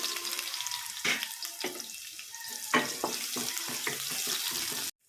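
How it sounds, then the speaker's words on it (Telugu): Onions sizzling as they hit hot oil in a pan, a steady loud crackling hiss with sharper spits and stirring scrapes running throughout, no talk. "నూనె అయితే కాగింది ఇప్పుడు ఉల్లిగడ్డలు వేస్తున్నా"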